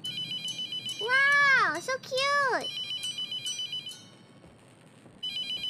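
A phone rings in the horror game The Mortuary Assistant with a steady electronic ringtone, repeating in short pulses, while a woman exclaims over it and the ringing briefly drops out before resuming.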